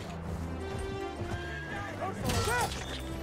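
A horse in the video game Battlefield 1 neighs and whinnies twice, with loud overlapping calls near the end, over steady clip-clop hoofbeats and busy battlefield noise.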